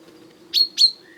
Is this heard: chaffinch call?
yes